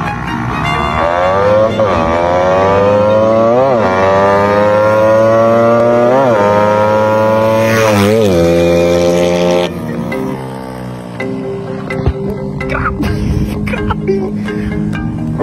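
Raider Fi superstock pit bike motorcycle passing by, loud engine revving up and down in repeated rising sweeps, then fading with scattered clatter and background noise.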